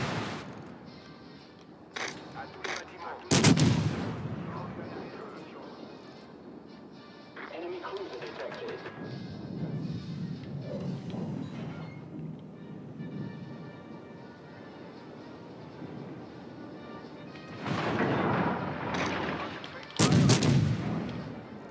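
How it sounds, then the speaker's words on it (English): Naval guns firing armor-piercing shells in a warship battle video game, heavy booming volleys with rumbling tails, a couple of big blasts spaced apart amid a low continuous engine and sea rumble, with a voice talking between shots. "We'll do one more volley of armor-piercing shells"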